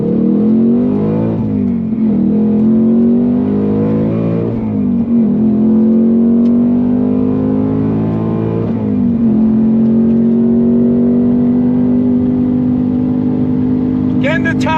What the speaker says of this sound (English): Tremec 6-speed, sticky Trofeo R tires, and I feel good. Here we go, on throttle,